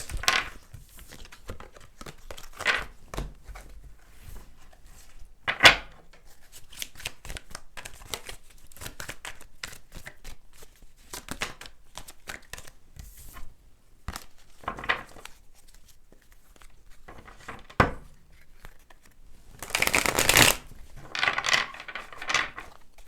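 Tarot cards are shuffled and handled in short, soft bursts of riffling and rustling, spread out with quiet stretches between them, no talking.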